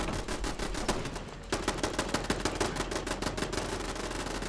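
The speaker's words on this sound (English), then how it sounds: "Why are the guns shooting?" Guns firing in a video game, a dense rapid burst of automatic fire that briefly drops out, then resumes as steady rhythmic shots, loud and continuous with no voices.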